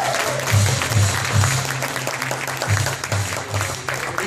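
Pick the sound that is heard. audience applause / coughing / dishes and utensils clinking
audience applause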